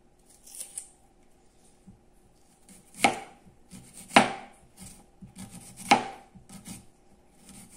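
Half an onion sliced thinly with a knife on a cutting board: three sharp, distinct chops spaced about a second apart, close and clear, with softer handling taps before them and no talking.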